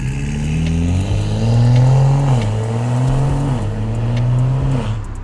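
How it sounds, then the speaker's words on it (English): A BMW F32 with a high flow downpipe, muffler and resonator revs its exhaust in deep, rising and falling pulls, loud and close, with no talking. "The sound of the exhaust with the high flow downpipe sounds a lot deeper."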